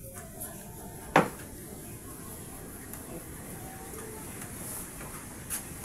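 Dishes gathered up for washing in a home, one sharp clatter of crockery followed by faint clinks and a later small knock, quiet surroundings with little else.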